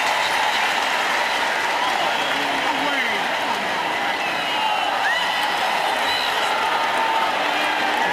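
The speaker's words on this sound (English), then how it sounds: "The crowd wants the Bengals to go for it." A stadium crowd at a Bears versus Bengals preseason football game roars and cheers in a continuous wide wash of noise, with a voice faintly heard beneath it.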